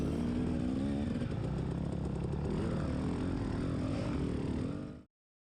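Dirt bike engine revving hard and steady during a motocross race, a dense droning motor close by with pitch wavering as the rider works the throttle, running continuously for about five seconds before cutting off abruptly.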